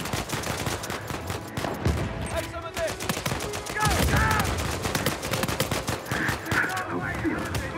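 Dense gunfire in a multiplayer match of Uncharted 4, rapid loud bursts of shots and blasts crackling almost without pause, close and continuous, with game effects mixed in.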